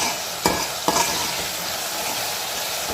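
Tomatoes and green chilies fry in a pan with a steady, bright sizzle, and two quick stirring scrapes come near the start, continuing alone without talk.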